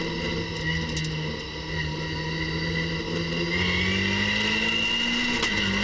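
Race car engines hum at the start of a race at the Nogaro circuit in 40-degree heat, a steady droning tone that slowly rises in pitch as one engine builds revs, moderately loud and without talk.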